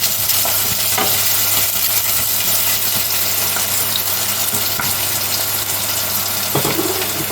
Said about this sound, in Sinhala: සලාගත්ත ඉඟුරු සුදු ලුණු මේ ටික යම්තම් කැන්දිලා බෙදීගෙන එනකොට කරපිංච ටික අපි මේකට එකතු කරගමු